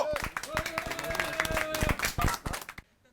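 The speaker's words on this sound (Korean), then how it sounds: "박수 한번 쳐주십시오" Members of an audience clap at a gathering in response to a speaker's call. There are a few scattered, uneven claps with a voice talking over them, and the sound fades out at the end.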